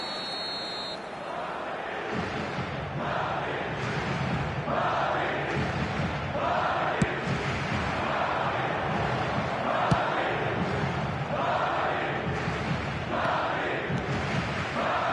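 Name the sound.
stadium crowd cheering in a football video game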